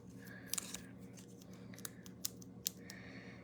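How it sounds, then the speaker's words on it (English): Scissors snipping the edge of a sheet of dimensionals for card making, a few crisp close cuts spaced irregularly, quiet and alone with no talk. "I always cut up the edges to make full use of my full sheet of dimensionals"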